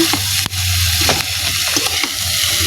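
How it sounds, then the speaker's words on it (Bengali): Chopped onions and green chilies with salt hiss and sizzle in hot oil in a home kitchen, close up, while a utensil scrapes and stirs through the pan in repeated strokes, with no talking. "সবই কেটে একসাথে তেলের উপর দিয়ে দিচ্ছি এবং নাড়বো"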